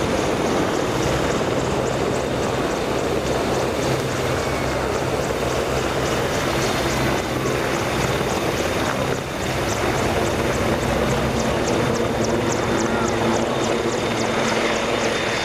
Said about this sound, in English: The Merlin coming to a hover to support the guys from the ground